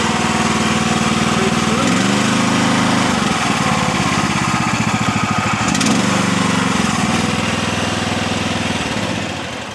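A small diesel engine on an SDLL30 mini skid steer starts up and settles into a loud, steady idle with a rhythmic chug, staying close and continuous throughout with a brief surge midway.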